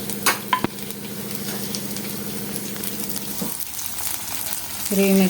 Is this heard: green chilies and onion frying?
yes